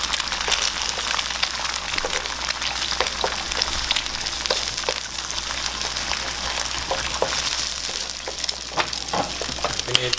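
Two eggs sizzle in a hot pan for Bandung-style seblak, with a steady loud crackle and frequent spitting pops throughout.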